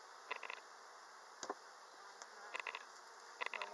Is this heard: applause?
no